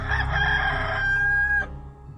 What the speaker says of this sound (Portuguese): no mesmo instante cantou o galo